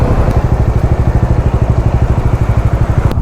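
A motorcycle engine thrums with a fast, regular pulsing beat while riding to Nandi Hills before dawn, loud and close throughout with no voices.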